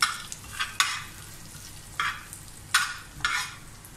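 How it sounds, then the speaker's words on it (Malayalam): Cumin seeds frying in hot oil with curry leaves, sharp sizzling bursts flaring up several times in uneven pulses over a quiet background, close and alone without speech. "ചെറുതായിട്ട് ചെറിയ ജീരകം ഒന്ന് വാട്ടിയെടുക്കുക."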